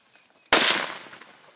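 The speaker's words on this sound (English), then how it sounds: "Shoot him, David." A single loud rifle shot rings out during an elephant hunt in Zimbabwe. The sharp crack is followed by a long, fading rumble, with a little faint rustling before it.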